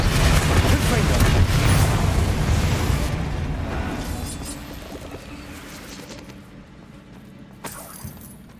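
Confringo blasting spells in Hogwarts Legacy go off in a loud, rumbling explosion that trails into debris and crackling, while a voice calls out over the blasts.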